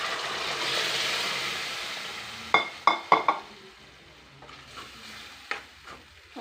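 Boiled dal tipped into a pan for tomato dal, first a steady frying hiss, then a run of quick sharp clangs from the spatula striking the pan, and a few scattered taps afterward.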